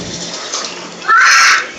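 Two glasses of hot water splash into a pot of keema aloo, minced meat and potato curry, in a short, bright gush lasting about half a second after a quiet stretch.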